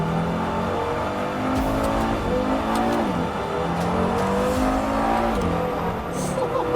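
A new supercar's engine revs under steady load, a loud continuous roar with pitch swells and dips as the revs climb and fall, heard from inside the car.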